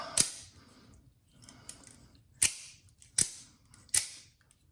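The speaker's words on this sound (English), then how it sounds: "Shooting action is great. Firm trigger." A Microtech Ultratech Tanto Bounty Hunter out-the-front knife fires its blade with loud, sharp metallic snaps, four strong cracks and one softer click spaced across a few seconds, close and crisp with no talk.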